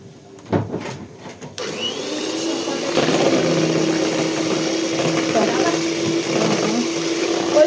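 An electric mixer whips with a steady whirring motor hum at close range after a few clicks and brief sounds, with someone speaking over it.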